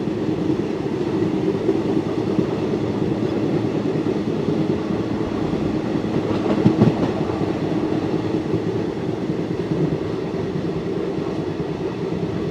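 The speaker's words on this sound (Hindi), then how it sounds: "अभी ट्रेन की रफ्तार बहुत ही धीमी हो चुकी है" A train rolls slowly through rural Punjab, making a steady low rumble and faint rattling that continue throughout, with a brief clunk near the middle.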